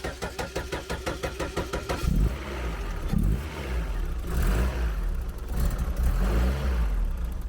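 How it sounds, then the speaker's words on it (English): A Chevrolet Nova race car engine cranks with a rapid rhythmic chug for about two seconds, then catches and settles into a loud, rough, steady idle with slight surges, heard up close. "It was time to start it up, and it started first time."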